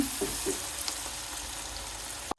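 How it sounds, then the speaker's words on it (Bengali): Onions frying in a pan with salt, a steady close sizzle with a few soft stirring scrapes and no voices, ending in a brief clatter. "পেঁয়াজটাকে একটু ভেজে নিলাম"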